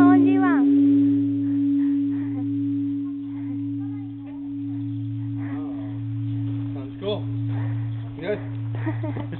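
A struck temple shrine bell leaves a low, steady hum that lingers throughout while people talk softly over it.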